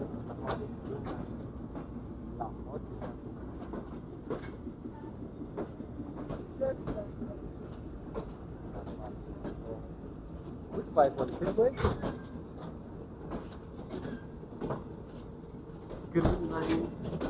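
A passenger train rattles along on the Karachi to Lahore line after leaving Khanewal Junction, steady low rumble with scattered clicks and knocks from the carriage, while someone talks over it throughout.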